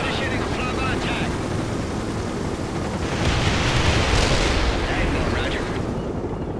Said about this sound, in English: Apache initiating a flyby attack.